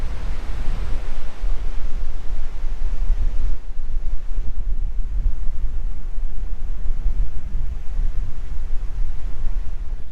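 Strong wind roars steadily across open seeded wheatbelt farmland, a loud continuous rush buffeting the microphone for the full stretch, with no voices.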